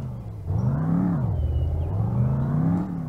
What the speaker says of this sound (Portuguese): esse carro tá acelerando demais, velho